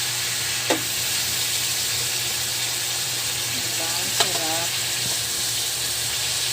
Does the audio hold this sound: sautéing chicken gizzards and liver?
yes